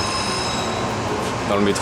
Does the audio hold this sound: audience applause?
no